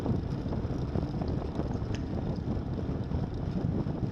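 Constant wind buffets the microphone outdoors on a Florida triathlon course, producing a dense low rumble with no pauses and no voices.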